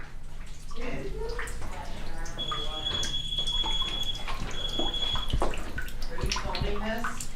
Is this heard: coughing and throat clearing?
no